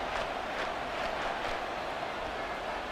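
A dense, steady roar of a stadium crowd in the Madden 24 football game during a Chiefs versus Dolphins divisional round, a continuous wash of cheering with no clear talk.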